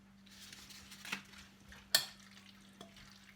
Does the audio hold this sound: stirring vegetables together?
yes